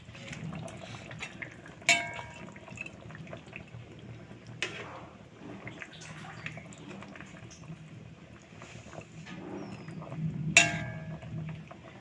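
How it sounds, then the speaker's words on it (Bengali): Pieces of fried hilsa fish go into a potato and brinjal curry simmering in a pot: a soft, quiet bubbling with a few brief splashes and clinks as the fish is added. "এখন আমি দিয়ে দেবো এতে মাছ।"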